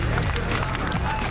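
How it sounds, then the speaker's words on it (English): A dense wall of crowd applause and cheering fills the hall as a standing ovation follows a Dead or Alive 4 championship win at the WCG 2007 gaming event in Seattle, loud and steady throughout. "Standing ovation from the crowd here in Seattle."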